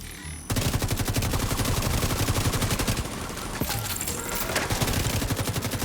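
Rapid automatic gunfire in The Division 2 video game hammers away at the player, a loud, dense, continuous stream of shots that starts abruptly and keeps going to the end.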